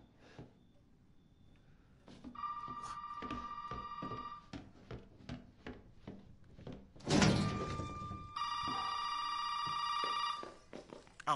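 Telephone ringing in Resident Evil 7: two long bursts of bright, electronic-sounding bell rings, fairly close. They are separated by a series of knocks, thuds and a louder slam-like impact, with no voices.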